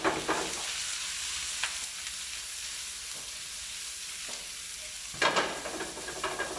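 Onions sizzle gently in a pan while being sealed rather than browned, a soft, steady frying hiss broken by a few stirring scrapes and small clatters, fairly quiet and with no talking.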